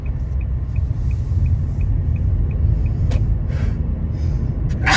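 A car drives on a road, with a steady low engine and tyre rumble from inside the cabin, a regular faint ticking like an indicator, and a few brief clicks and rustles.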